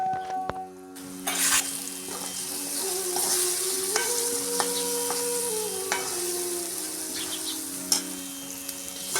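Spices being stirred into bottle gourd bhaji sizzling in a pan in a Gujarati village kitchen, with a spoon scraping and clinking against the pan over a steady loud frying hiss.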